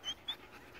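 A dog pants while being walked on a leash, giving two quick breathy puffs up close followed by softer rhythmic panting.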